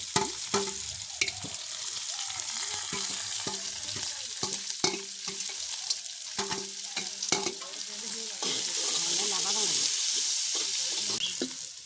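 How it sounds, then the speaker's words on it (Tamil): Curry leaves, onion and green chilli frying with mustard seeds and cumin in a hot pan: close, continuous sizzling broken by repeated spatula scrapes and taps, the hiss swelling louder toward the end. "கருவேப்பிலை, சரி கடுகு சீரகங்களோட சேர்த்து கருவேப்பிலை, வெங்காயம், பச்சை மிளகாய் எல்லாத்தையும் சேர்த்து கொள்ளுவோம்."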